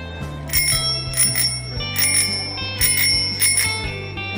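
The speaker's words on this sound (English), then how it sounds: "Yeah, I heard that bell." A bicycle bell rings repeatedly in quick bright dings, about six strikes spread across a few seconds, clear and close over a faint low hum.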